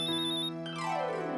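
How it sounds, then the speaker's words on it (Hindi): A mobile phone rings indoors with a short, bright electronic ringtone of steady tonal beeps, close and clear, with no talking. "फिर देख कैसे फटाफट फोन बजता है"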